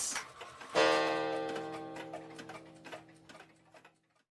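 Twenty clocks tick together in a dense, overlapping patter of quiet clicks, with a ringing tone in the middle that fades as the ticking carries on softly.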